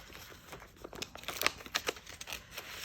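Paper rustling and crinkling as $40 in cash is slipped into a paper cash envelope, a close series of soft crinkles and crunches with no talk.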